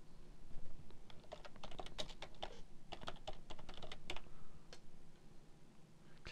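Fast typing on a computer keyboard while renaming a chapter in CyberLink PowerDirector 8, a steady run of crisp, close keystrokes with short pauses between bursts.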